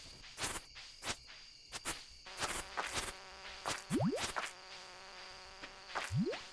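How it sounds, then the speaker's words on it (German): In the video game Stardew Valley, an insect buzzes like a mosquito in short rising whines among faint clicks and soft thuds. The buzz is quiet, with two or three brief passes standing out. "es ist wirklich die summt da rum wie so ein Moskito hier, so richtig nervig"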